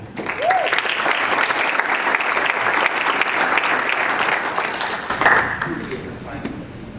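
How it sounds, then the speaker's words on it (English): A room full of people at the U.S.P.A. awards in Cleveland, Ohio applauds the association's president, Barb Haslow, with steady, close clapping over several seconds, a brief whoop near the start and a short surge toward the end. "How about a nice round of applause for Barb Haslow"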